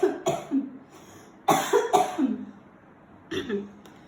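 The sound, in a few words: cough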